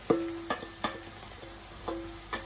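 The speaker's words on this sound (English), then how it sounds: "So now I am going to put my saltfish into my green seasoning. So let this fry." Saltfish frying in green seasoning for Jamaican ackee and saltfish: a soft, low sizzle under a handful of sharp knocks and clatters from stirring or a utensil, with a faint tone humming in the background.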